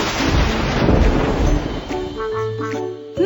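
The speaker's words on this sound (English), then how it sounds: "Thunder!" Thunder in the Cat in the Hat Clatter Clang Island game rumbles loud and broad, a single rolling crash that fades out over about two seconds before a short electronic tone.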